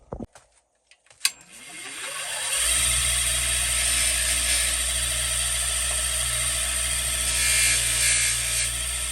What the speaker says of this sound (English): we're going to polish it on the polishing wheel and see what happens